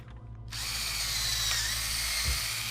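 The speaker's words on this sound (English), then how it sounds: "It's a drill." A power drill whirs in Robocop Rogue City, starting abruptly after a brief quiet moment and running at a steady high-pitched spin, with a small pitch dip and a low thump near the end.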